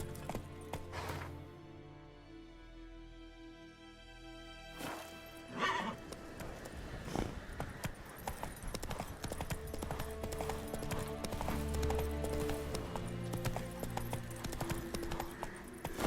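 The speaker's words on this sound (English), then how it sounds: "Run, Roach." Horse hooves clip-clop at a gallop in The Witcher 3, with a neigh and whinny early on, a brief crash, then rapid steady hoofbeats carrying on under game music.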